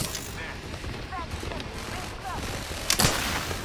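Gunfire in the battle royale game Apex Legends, a series of sharp shots and bursts layered over game ambience and faint chirping effects, with one louder crack near the end, while players talk over it.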